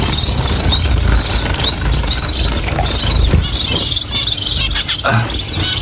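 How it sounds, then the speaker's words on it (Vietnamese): Small cage birds, munias and colorful finches, chirp and twitter continuously in a dense, busy chorus up close, with a constant background hum and no one speaking. "Cái dòng này thì nó cũng hơi nhiều chim các bạn."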